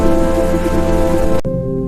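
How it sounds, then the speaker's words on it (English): Heavy rain pours on a rainy night, a dense, loud, steady wash with a low rumble beneath, cut off abruptly near the end to leave only a quieter low hum. "It began on a rainy night."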